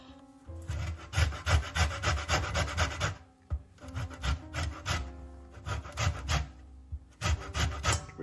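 Lemon zest grated off the fruit in a kitchen, loud close rasping strokes in a quick steady rhythm, broken into three bursts by short pauses.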